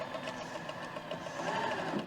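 A sewing machine stitching fabric runs at a steady, fast, even chatter, close and continuous, with a faint hum under the rapid needle rhythm.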